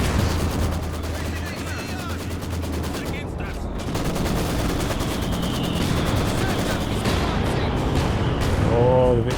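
Maxim machine gun firing in Company of Heroes 2 amid a dense battle din of gunfire bursts and explosions, loud and continuous through the whole stretch, with a voice talking over it.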